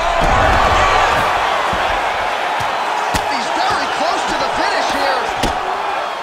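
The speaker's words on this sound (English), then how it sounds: "big pop from the crowd as they get back to their feet" A fight crowd roars as the fighters get back to their feet, a loud sustained wash of cheering with scattered sharp thuds, with voices mixed in.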